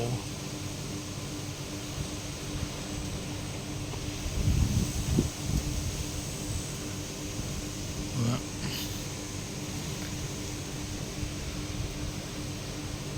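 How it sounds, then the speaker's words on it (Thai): Strong southwest wind blows outdoors on a hot, sunny day at a rural home, a steady broadband roar with gusty swells buffeting the microphone and some rustling, while someone talks over it. "ดูลมแรงครับ ลมมาด้านด้านทิศตะวันตกเฉียงใต้ครับ"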